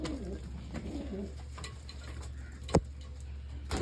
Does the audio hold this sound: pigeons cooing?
yes